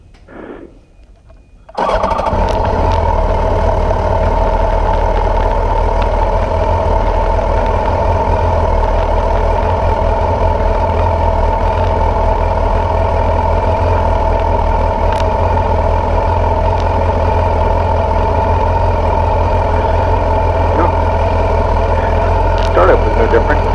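A 2006-2015 Yamaha FZ1 motorcycle with a Dynojet Power Commander 5 fires up after a brief quiet moment and settles into a steady, loud, low idle that holds unbroken for the rest of the stretch.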